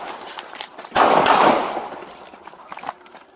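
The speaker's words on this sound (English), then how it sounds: "Shots fired." Gunfire from a police officer during a bodycam-recorded confrontation in Fort Collins comes as a loud, close burst of shots with a sharp crack, followed by fainter clatter and rustling.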